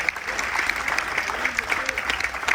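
Applause at a military tribute aboard the Carnival Dream cruise ship, a moderate crowd clapping steadily while voices murmur underneath.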